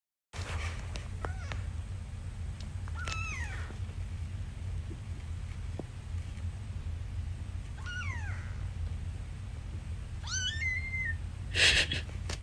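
A small rescued kitten being nursed back to health meows several times, thin rising cries spaced out over a steady low hum, close and fairly clear.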